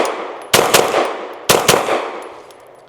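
Two sharp gunshots from an Adler Arms AD 9 pistol at a range, about one second apart, each loud and close with a ringing decay tailing off after it.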